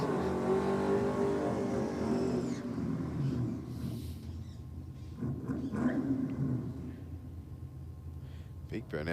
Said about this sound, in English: You still hear that Commodore going back for the gears down the bottom.